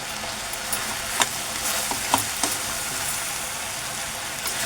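Tomato and cauliflower curry frying in a pan, a soft even sizzle with a few light scrapes and taps of a spoon stirring it, fairly quiet and continuous with no voices.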